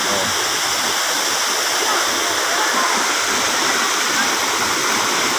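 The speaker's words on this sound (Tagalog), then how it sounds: "Ayun po yung main na tubig niya. Ayan, oh. Yan ang main source ng tubig." A waterfall, the main source of a stream, roars steadily and close by, a dense broadband rush of falling water that fills the whole clip without letup.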